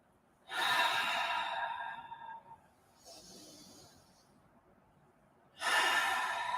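Deep breaths in and out during seated shoulder rolls, sitting up tall: two long, airy exhalation bursts near the mic with a softer breath between, no talking.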